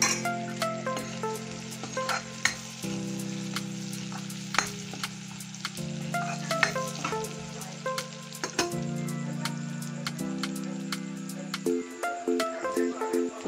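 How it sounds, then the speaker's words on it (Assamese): Onion, ginger and garlic fry in hot oil left from browning pork, with fenugreek seeds added, a steady close sizzle broken by clinking stirs of a spoon against the pan, while a sustained background tone hums and shifts pitch. "পিঁয়াজখিনি ৰঙচুৱা হোৱালৈকে মই এনেদৰে ভাজি থাকিম।"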